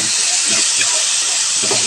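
Onions sautéing in hot oil in a pan with salt and turmeric while making Tamil onion thokku, giving a steady, close, continuous sizzling hiss throughout with no talking.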